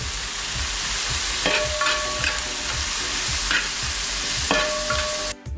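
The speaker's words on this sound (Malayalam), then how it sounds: "ഇനി നമ്മൾ അരിഞ്ഞ് വെച്ചിരിക്കുന്ന പച്ചമുളക് ഒന്ന് ഇളക്കി കൊടുക്കാനായിട്ട്" Chopped green chilies, garlic and ginger sizzle and fry in a pan while being stirred, with regular scraping strokes, a few sharp clinks of the utensil and a loud knock at the very end.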